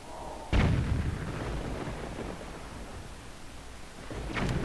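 A cannon fires in The Legend of Zelda: The Wind Waker, one heavy booming blast near the start that trails into a long rumble, then a second boom begins just before the end.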